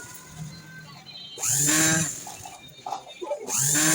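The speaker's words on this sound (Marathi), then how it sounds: "पूर्ण याच्यावरती आपल्याला दाब शिलाई देऊन घ्यायची आहे" Sewing machine stitching around the back neck of a blouse, giving bursts of rapid mechanical stitching that start and stop between quieter pauses, close and fairly loud.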